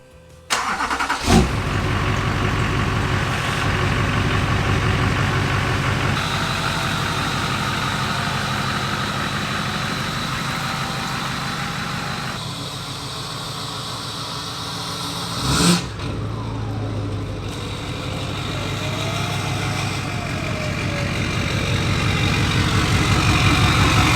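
A Duramax diesel pickup truck runs steadily nearby, its low engine rumble idling and shifting slightly as it backs up toward a garage, with a brief clunk near the start and another around the middle.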